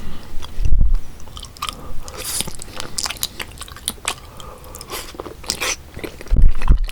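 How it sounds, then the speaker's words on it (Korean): Crunchy bites and chewing on a large snowman-shaped tuna rice ball, close and distinct, with a few sharp bite crunches at the start and end and soft mouth sounds between. "눈사람 머리부터 한번 먹어볼게요"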